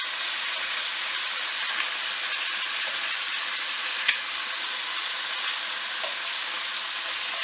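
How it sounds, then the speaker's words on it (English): Chicken thighs brown skin side down in a pan, giving a steady, loud, close sizzle and crackle of frying fat that runs unbroken, with an occasional faint pop and no voices. "thighs skin side down have been browning in the pan for a couple of minutes, a little more"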